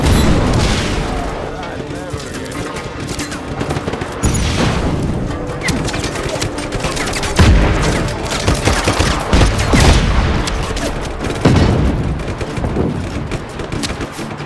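Rapid bursts of gunfire and booming explosions in the Just Cause 3 video game, dense and loud throughout, with a voice heard between the shots.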